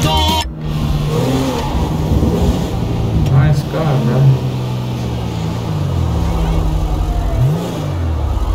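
A car engine in GTA 5 revs and accelerates loudly and steadily, its pitch rising and falling through several surges, with a voice talking over it.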